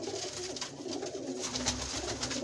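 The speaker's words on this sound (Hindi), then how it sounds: "ये लोअर वाला बड़ा कबूतर उठा लाएंगे" Pigeon coos from a pair of large loft pigeons, soft low cooing repeated steadily over a constant bird-filled background, close by with no talking.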